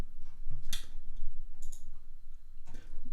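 Several sharp plastic clicks of computer keyboard arrow keys being pressed at a desk, spaced irregularly and close, with a faint background hum and no talking.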